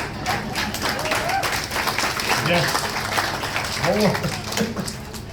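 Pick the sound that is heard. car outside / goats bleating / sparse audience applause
sparse audience applause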